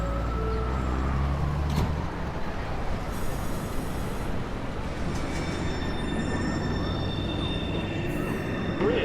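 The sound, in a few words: NYC subway 1 train departing the station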